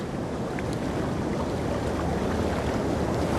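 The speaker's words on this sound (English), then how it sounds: "the Endeavour makes good progress up the coast, the wind carrying her some 12 nautical miles along Cook's original route" The sailing ship Endeavour, a replica of Cook's vessel, moving up the coast under wind at sea: a steady, dense rush of wind and water noise that runs unbroken throughout, with no talk.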